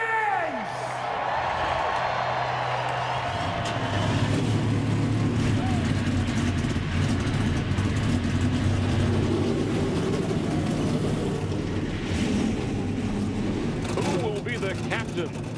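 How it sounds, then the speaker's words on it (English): Stock car engines fire up at the Daytona 500 in a loud, continuous low roar that swells and holds, with a crowd and a voice on a public address system mixed in. "Drivers, start your engines!"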